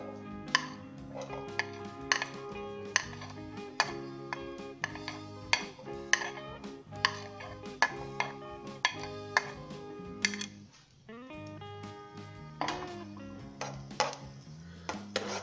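Garlic going into hot oil in a pan for shakshuka, heard as steady sizzling with frequent sharp metallic clinks of a utensil against the pan, close by, with a brief lull partway through.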